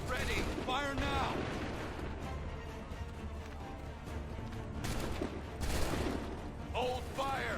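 Musket volleys crackle in Assassin's Creed 3, dense overlapping gunfire rolling through a battlefield din, with shouted commands layered over the shots and bursts swelling again near the end.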